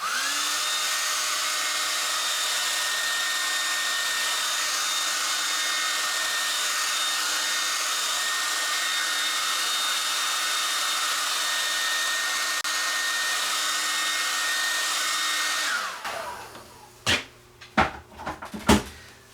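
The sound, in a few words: hair dryer drying a watercolor painting in the studio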